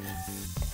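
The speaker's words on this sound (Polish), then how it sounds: "Na rozgrzaną oliwę wrzucamy cebulkę." Chopped onion sizzling as it hits hot olive oil in a frying pan, a brief close crackle that swells toward the end, with no talk over it.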